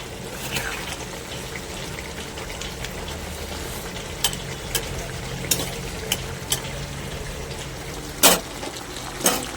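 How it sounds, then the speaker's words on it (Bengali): Pieces of fish go into a bubbling eggplant and potato curry, with a soft continuous sizzle and a few brief splashes and clatters, the loudest near the end. "এবার মাছটা দিয়ে দেবো।"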